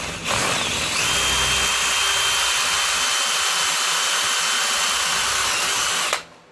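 A power drill runs continuously at high speed for about six seconds, enlarging pilot holes for bolts while installing a digital volt meter on the house batteries of a 1994 Fleetwood Bounder motor home, then stops abruptly.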